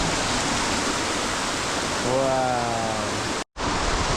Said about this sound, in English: I have my own waterfall, my own view, and my own little lagoon